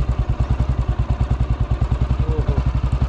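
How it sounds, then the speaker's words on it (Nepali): Old motorcycle engine running at a slow, even idle just after starting, a loud rhythmic putt-putt chugging of regular firing pulses close by. "ओहो, साउन्ड कस्तो छ खोत्रे बाइकको."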